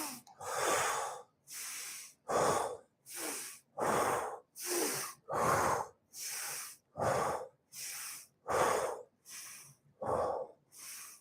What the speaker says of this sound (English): Rapid breathing in through the nose, out through the mouth.